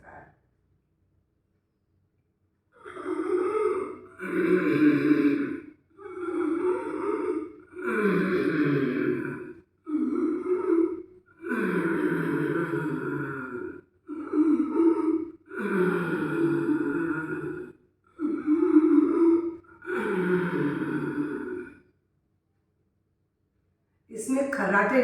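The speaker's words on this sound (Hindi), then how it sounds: "इसमें खर्राटे जैसा स्वर आता है। गले की वॉल पर एक रगड़ पड़ रही है जो हम सांस ले रहे हैं, जिसके कारण ये स्वर निकलता है।" Ujjayi-style pranayama breathing made by narrowing the throat, giving a rough snore-like rasp; about ten long breaths come in steady rhythm with short pauses between, close and fairly loud, with no talking.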